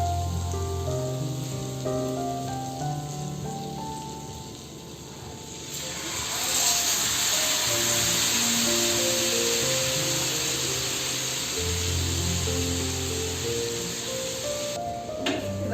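Chicken pieces sizzle in melted butter in a pan, a loud, steady hiss that swells partway through and holds, with background music playing underneath.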